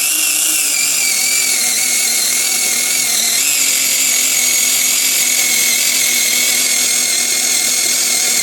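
A cordless battery-powered saw runs loud and close in a steady high whine, its pitch dipping slightly mid-cut, with no talk.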